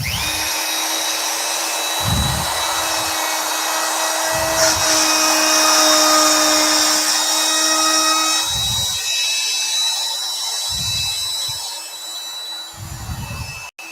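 A plunge router fitted with a 1/8 inch bit cuts about 1/8 inch deep into wood, giving a steady high-pitched motor whine. Regular low thumping bursts, roughly every two seconds, sound as the bit bites into the workpiece.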